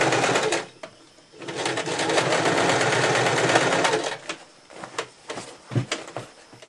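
A sewing machine stitches down the folded top edge of a fabric bag, a steady rapid whirring run of about three seconds followed by short stop-start bursts and clicks.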